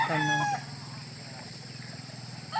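A rooster on a farm crows loudly at the start, with a low clucking murmur of chickens underneath and the start of another crow at the end.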